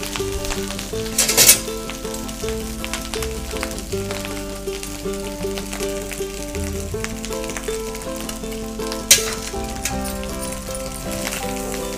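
Rice tipped into a hot pan for foxtail millet pongali crackles and sizzles steadily, with two sharp bursts of louder spattering and faint stirring scrapes underneath.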